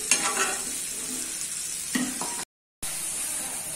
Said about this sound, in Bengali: আর আপাতত আলুটা কষিয়ে নেব। একটু কষুক।